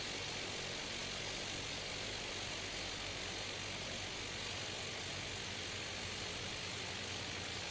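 A small propeller plane approaching to land in the airport simulator Tower Simulator 3, a steady loud engine drone holding constant throughout without any speech.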